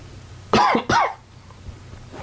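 Two sharp, close coughs in quick succession, harsh and loud, then quiet background.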